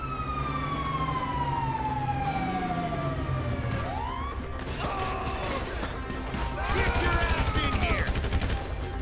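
In the video game GTA 5, police sirens wail with falling and rising tones while bursts of gunfire and mechanical clatter crack repeatedly, growing busier toward the end.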